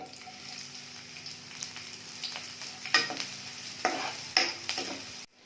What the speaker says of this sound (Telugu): ఇప్పుడు నూనె వేసుకొని ఉల్లిపాయ ముక్కలు